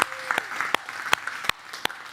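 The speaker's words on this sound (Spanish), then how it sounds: "Démosle un fuerte aplauso a nuestro Dios." A church congregation breaks into applause, a dense bed of clapping punctuated by a few loud, sharp claps close by, continuing steadily with no speech over it.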